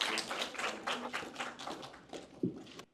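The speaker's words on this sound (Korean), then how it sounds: "여러분 힘찬 박수로 응원 부탁드리겠습니다." A children's policy-proposal contest audience claps for a children's council team walking on stage, a brisk patter of scattered hand claps of moderate loudness that thins out and stops near the end.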